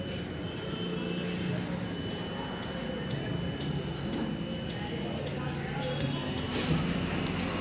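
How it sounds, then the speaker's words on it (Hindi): A tester beeps when its probes touch a good car glow plug: a thin steady electronic tone held through the clip under a man's nearby speech and faint handling clicks. "तो बीप की साउंड आपको सुनाई दे रही होगी।"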